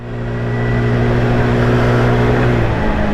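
Engine drone of a 50cc moped in busy city traffic, a loud steady mid-pitched hum that rises and then drops slightly near the end, with road noise around it and no talking.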